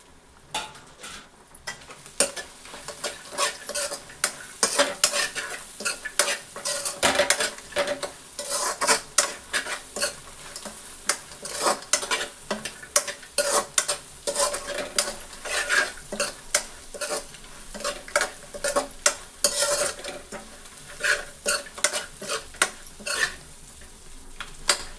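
A spoon stirs fried cashews into egg rice in a hot pan, making repeated scraping clinks and soft shuffles over a low sizzle, steady and close throughout.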